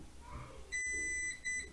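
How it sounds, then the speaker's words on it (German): A multimeter on continuity test during an iPhone 6S display connector repair gives a steady high-pitched beep lasting about half a second, a short pause, then a second shorter beep, close and clear. "Wir gehen auf Durchgangsprüfung. Dann hören wir das, ob es passt oder nicht. Piepst."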